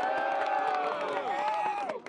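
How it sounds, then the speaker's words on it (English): A high school football crowd at a Friday night game lets out a burst of cheering and whooping, with several voices yelling over one another at a distance and little clear clapping. "Clap it up for you guys right here."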